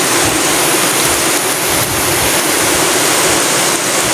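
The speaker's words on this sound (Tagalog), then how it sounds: "Rumaragasan na yung ilog boy, no? Rumaragasan na yung tubig." A river swollen after days of rain, its water rushing in a loud, constant roar close by with no voices.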